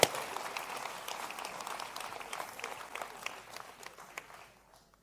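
A church congregation at a service in Poitiers, France breaks into applause, dense clapping from a large crowd that starts strongly, holds for several seconds and then thins and fades away to quiet.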